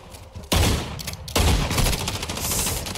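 Gunfire in the mobile video game Call of Duty: Warzone, with two sharp loud onsets followed by dense rapid bursts of shots that continue to the end.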